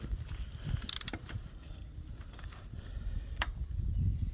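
A wrench loosens a bolt during an oil change on a Kawasaki Voyager VN1700 motorcycle, giving a few faint mechanical clicks and creaks over a low rumbling background.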